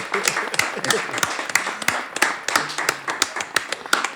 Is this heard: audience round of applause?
yes